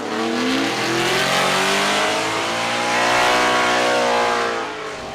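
A Subaru BRZ Formula Drift race car built on Falken tires revs hard and close, its engine note rising and falling in steady sweeps across about five seconds, loud and unbroken with no voices over it.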